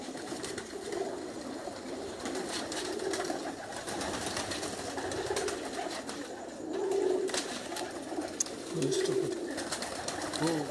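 Pigeons coo steadily in soft, repeated throaty phrases close by, over a constant hum of outdoor background noise, as the birds are handled and shown off by a pigeon fancier.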